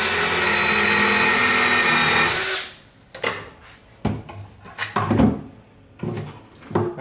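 A power drill bores through a wooden drawer box in one loud, steady whine lasting a couple of seconds, then stops, followed by knocks and handling clatter of the wood and tool.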